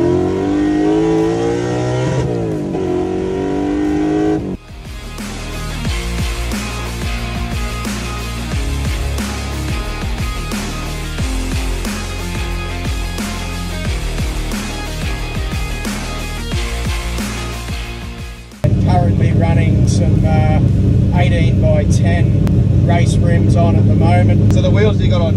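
Replica of a Holden VK Commodore race car built for track and street, its engine loud and close with throttle swells and sustained revving that cuts out briefly, then returns even louder.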